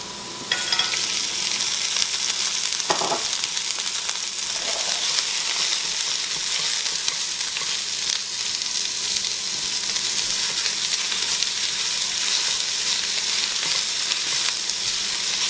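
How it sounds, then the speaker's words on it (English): Rhubarb fries in oil in a pan, giving a loud, continuous sizzle throughout, with a brief utensil knock early on. "Now we add the rhubarb, and then I'm going to add 1 more teaspoon of oil."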